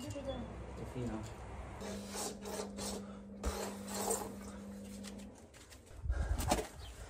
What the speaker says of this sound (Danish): så fortsatte jeg med at slibe og stribe det gamle maling af